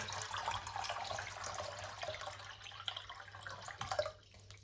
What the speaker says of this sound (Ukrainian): У ковшик я виливаю літр води